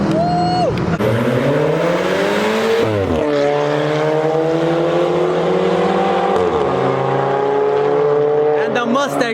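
A Mustang roars through a tunnel during a large street car meet in California, its loud engine revving up and down in repeated sweeping surges that echo off the walls, with people cheering and talking over it.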